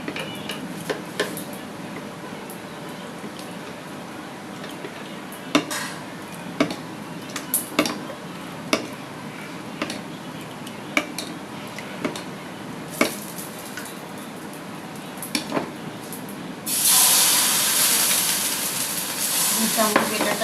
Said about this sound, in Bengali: ভালো করে তেলটা গরম হয়ে গেলে তারপর আমি যে এখানে বেটারটা তৈরি করে রেখেছিলাম সেটা